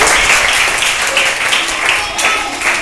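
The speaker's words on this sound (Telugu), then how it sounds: "అందరూ ఒకసారి క్లాప్స్ ఇవ్వండి శిరీష గారికి" Audience applauding a woman named Sirisha at a village gathering, a steady dense wash of many hands clapping that stays loud and even throughout.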